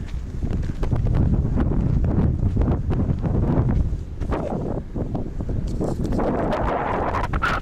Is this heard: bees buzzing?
no